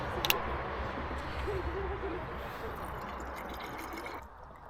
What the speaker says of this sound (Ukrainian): Додаємо водички. Просто звичайна вода.